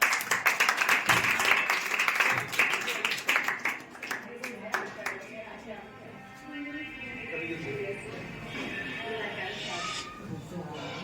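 Strong clapping from an audience welcomes a school's founder to the stage at a farewell event, loud for the first few seconds, then thinning into scattered claps under background voices and murmur.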